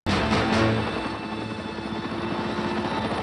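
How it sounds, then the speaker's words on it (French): A helicopter's rotor thumps steadily and loudly, close by, with a continuous engine whine beneath the beating blades. "Rostov dans un hélico."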